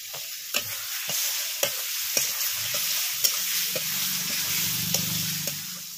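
Meat sizzles loudly in hot oil with turmeric, cooking for a Bengali kosha mangsho. The steady, close frying hiss continues throughout, with scattered sharp clicks from a stirring spoon against the pan.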